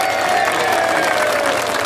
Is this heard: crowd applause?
yes